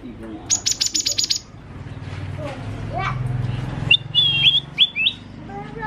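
A young green leafbird (cucak ijo, blorok type) sings, mimicking a black-naped oriole song. It opens with a rapid run of bright, high chirps and then turns to clear whistled phrases, close and loud. A voice talks underneath.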